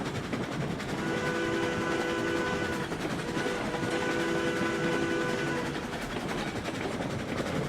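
A train rolls along the rails in the RailRoads Online game, with a steady loud rumble and running noise, tonal whistle-like lines rising twice over the continuous mechanical din and no talking.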